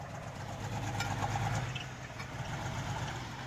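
A Buick 3.8L V6 runs in a G-Body car with a steady, rough low rumble and a slight swell in revs, close and continuous with no talking.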